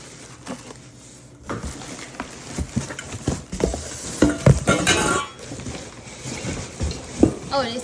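Stainless steel pots and a steamer clink and knock as they are unboxed, scattered close metallic taps and rustling of packaging at irregular intervals.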